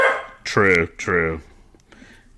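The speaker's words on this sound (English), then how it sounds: "I am sorry about my dog ruining the end of this podcast." A nearby dog gives two loud, close barks in quick succession, with a person speaking briefly just before.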